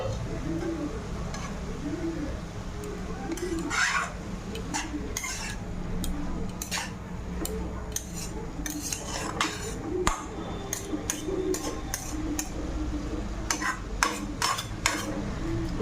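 Leafy greens frying in a covered pan, a steady low sizzle running throughout with frequent sharp clinks of a utensil against the pan, and faint bird coos in the background.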